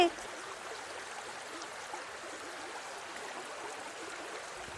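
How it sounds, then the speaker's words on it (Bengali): Floodwater flows steadily through a cartoon village, a continuous broadband rush like a stream with no breaks, moderately loud and unchanging throughout, with no voices over it. "এ কি বাইরেও তো দেখছি বন্যা হয়েছে"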